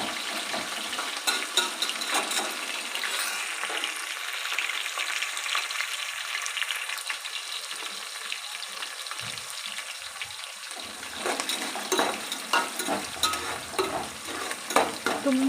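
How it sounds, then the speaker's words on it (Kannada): Onion and curry leaves fry in a pan for egg fried rice, with steady sizzling and repeated scraping stirs of a spoon against the pan, close and moderately loud throughout. "ಈರುಳ್ಳಿ ಹಾಕಿ ಕರಿವೆ ಸೊಪ್ಪನ್ನು ಹಾಕ್ತೀನಿ"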